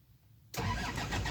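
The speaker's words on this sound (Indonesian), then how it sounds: "Oke, saya starter ya." An Isuzu Panther Hi Sporty engine is started. Low quiet rumbling gives way to a sudden, loud, close burst of engine noise that carries on steadily to the end.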